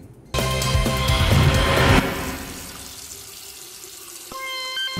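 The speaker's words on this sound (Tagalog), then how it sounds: "Ganitong kulay ng tubig na tumutulo mula sa gripo ng mga bahay" Brown, coffee-coloured water gushes from a house faucet in a subdivision, a loud broadband rush for about two seconds that settles into a steadier, quieter flow, with tonal background sounds layered over it.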